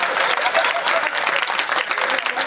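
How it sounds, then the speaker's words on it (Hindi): Audience applause at a Hindi comic poetry show (kavi sammelan), dense steady clapping from a large crowd filling the whole stretch, close and loud with no clear speech over it. "ताली बजा सकते हैं आप।"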